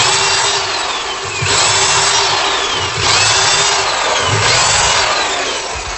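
A power drill boring dowel holes with a VIX bit guided by a jig, a loud continuous whirring drone that rises in bursts as the bit bites, repeated for several holes.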